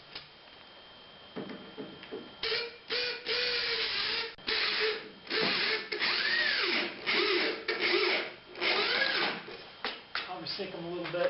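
Power drill driving deck screws into 2x4 boards of a wooden wheelchair ramp, repeated short whirring bursts that wind up and stop, about a dozen in quick succession, with pauses between them.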